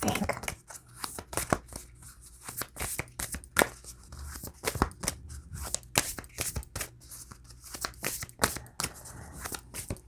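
A deck of new Moonology oracle cards is shuffled by hand close up, rapid riffling bursts and flicks repeating in an uneven rhythm without talk.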